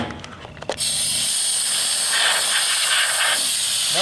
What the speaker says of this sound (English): I'm going to take an air blower and blow all this garbage off before I open up the tank